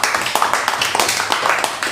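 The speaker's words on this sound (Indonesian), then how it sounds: "Boleh tepuk tangannya Bapak Ibu semuanya." An audience at a Harley Davidson Club Indonesia aid event claps together in a quick, uneven patter of many hands, fairly close, lasting under two seconds.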